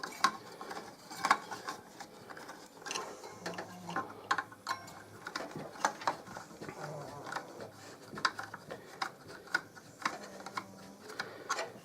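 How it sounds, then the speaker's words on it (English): Screws go into a budget gaming PC build with Intel, Corsair, Sapphire, MSI R9 270X and VS550 parts. Quiet, irregular clicking and ratcheting ticks come from a hand screwdriver, sometimes in short bursts, alongside faint low hums. "So let's start screwing this down."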